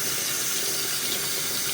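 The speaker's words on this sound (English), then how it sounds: "or like the regular sink through them like that, so that the water presses through them." Water from a kitchen sink tap pours steadily through orchid pots, a loud, close, continuous rushing splash with no talking.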